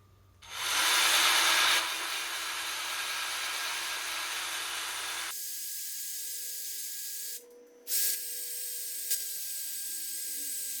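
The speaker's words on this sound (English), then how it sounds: "So now I have to sand all of them." Pallet wood boards being sanded: a loud, broad hissing rasp that runs steadily for several seconds, then cuts off, followed by quieter intermittent scraping and a short burst near the end.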